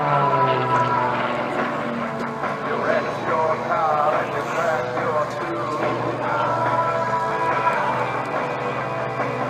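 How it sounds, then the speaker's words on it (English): Stunt airplane performing aerobatics such as a torque roll at an air show in Miramichi, Canada, a steady engine drone throughout with shifting pitch, under an announcer's commentary. "Torque roll, and he's flying backwards, flipping that airplane over, reconnecting again."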